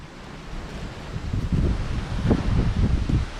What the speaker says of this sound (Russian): Давно я не рыбачил в такую погоду в ветрюганы.